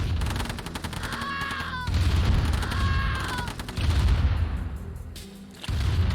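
Artillery shelling in the Command & Conquer Remastered video game, rapid rattling gunfire and repeated explosive booms over a busy battle din, loud and dense throughout with brief whistling tones.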